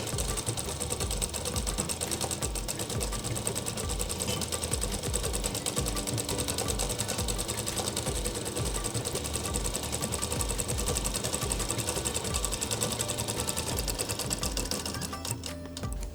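A sewing machine double-stitches the seams of a Patiala kurti, running steadily and close with a fast, even mechanical rattle for the whole stretch before it slows at the end.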